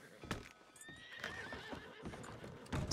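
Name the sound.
horse in a Red Dead roleplay video game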